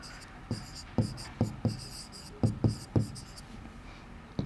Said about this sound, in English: Let us draw the rough sketch first.